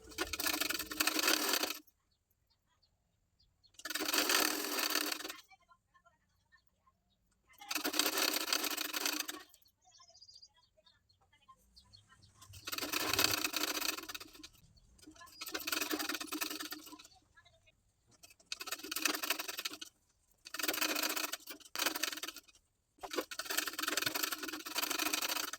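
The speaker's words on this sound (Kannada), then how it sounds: "ಇದಕ್ಕೆ ಡಬಲ್ ಸ್ಟಿಚ್ ಮಾಡ್ತಾ ಇದ್ದೀನಿ" A sewing machine runs a double stitch line in repeated short bursts of a few seconds each, separated by quiet pauses, close and fairly loud with no talking.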